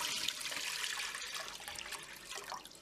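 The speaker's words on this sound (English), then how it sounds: "I'm just going to pour the water in." Water poured from a container into a pan set on high heat, a steady broadband splashing rush that runs continuously for about three seconds and eases off slightly toward the end, with no talking.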